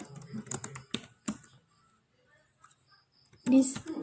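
Typing on a computer keyboard while configuring a router in Packet Tracer: short clusters of close key clicks at the start, then quiet, then a final burst, with a voice speaking softly in between.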